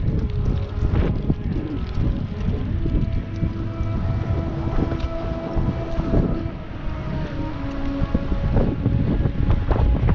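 Strong gusty wind roars steadily across the microphone outdoors, a loud continuous buffeting rumble with surging gusts throughout, heard alone with no talking.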